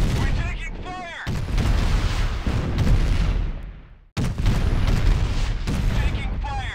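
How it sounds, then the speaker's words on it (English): Gunfire and artillery in Art of War 3, a continuous roar of shots and booms that breaks off sharply once and then resumes, with voice lines heard above the battle. "We're taking fire!"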